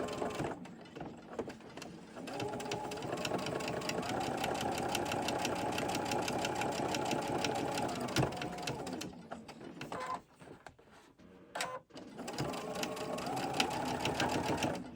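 A sewing machine stitching fabric for a corner bookmark, a fast steady mechanical whir with rapid needle ticking, running in long bursts that stop and restart, loud and close.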